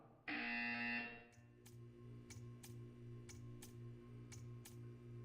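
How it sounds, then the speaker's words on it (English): A loud, steady electronic buzzer in Portal 2 sounds for about a second, then fades into a low hum broken by a series of sharp clicks. "You will hear a buzzer."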